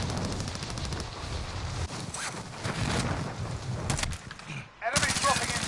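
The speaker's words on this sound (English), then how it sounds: "I wanna see what the hip fire is." Hip-fired weapons in Call of Duty Warzone on the Verdansk '84 map, in Plunder mode, crack out in rapid bursts and sputtering volleys, close and fairly loud, with a voice mixed in.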